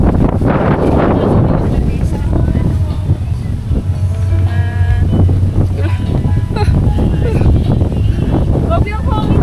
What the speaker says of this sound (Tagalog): Grabe yung hangin guys